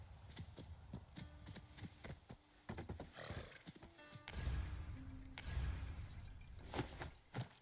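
A horse in the video game Where Winds Meet clip-clops in bursts of hoofbeats, snorts and gives a short whinny, with game effects chiming in between, all fairly close and moderately loud with no talking.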